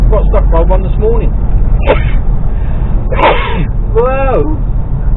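A driver sneezes inside the cab of a Mercedes Actros HGV truck on a UK road, a sharp burst standing out over the steady low rumble of the engine, with a voice heard around it.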